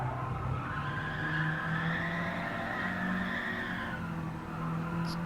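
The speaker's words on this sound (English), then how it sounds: "It's torturing the tyres" Car tyres squeal in a sustained, loud skid at Brands Hatch Indy in a racing video game, the tone bending over a steady engine drone for several seconds.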